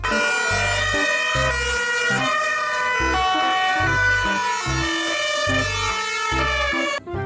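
Toy ambulance siren sounding loudly and steadily over a rhythmic electronic beat, the electronic wail continuous throughout.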